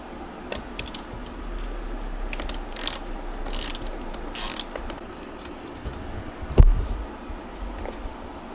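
Ratchet clicking steadily while turning a screw on a Yamaha MT10 motorcycle, close and fairly quiet, with bursts of faster ratcheting and one sharper knock near the end; no one speaks.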